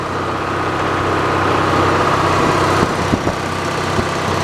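A steady Frick sawmill engine drones continuously at close range, a low constant hum with a few faint knocks near the end.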